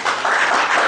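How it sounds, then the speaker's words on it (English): Audience applause welcomes a speaker at a professional ethics talk, a dense wash of clapping from a crowd, steady and fairly loud for under a second. "please join me to welcome him once again with a big crowd of applause"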